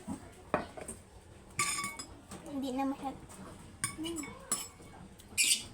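Dishes, pots and cutlery being washed by hand, with intermittent close clinks and clatters of plates and utensils between moments of quieter handling, while people talk nearby.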